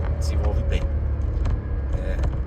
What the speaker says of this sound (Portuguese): o turbo enche, o motor cresce e o carro desenvolve bem